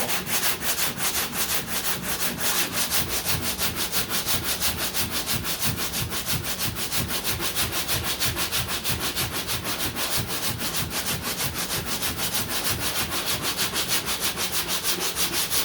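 Steady rhythmic sanding scrapes back and forth without pause on the body work of a 1969 Corvette C3, a dense, close, abrasive rasp continuing throughout with no voices.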